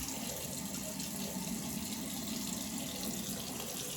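Running tap water gushes steadily into a sink while a safety razor, an early 1900s Gillette ABC pocket edition fitted with a Gillette Platinum blade, is rinsed under it; the flow is close, continuous and alone.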